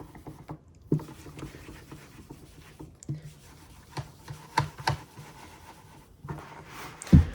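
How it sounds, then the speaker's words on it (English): Dry-erase marker notes being wiped off a whiteboard: soft rubbing strokes with scattered light taps, close and fairly quiet, with no talking. "let me go ahead and erase all this"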